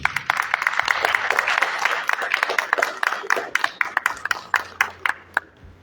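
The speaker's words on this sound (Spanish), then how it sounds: "Vamos a recibir en esta oportunidad a varios autores con un caluroso y fuerte aplauso." An audience at a book presentation claps warmly to welcome several authors, dense at first, then thinning to scattered individual claps over a few seconds.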